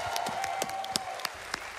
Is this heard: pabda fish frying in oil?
no